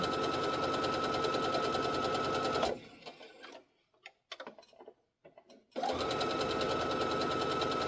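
A Baby Lock sewing machine with a 1/4 inch foot stitches a pincushion closed, a fast steady mechanical whir close by that stops for a few seconds of quiet handling noises, then starts up again.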